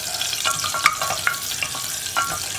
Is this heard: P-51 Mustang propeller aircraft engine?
no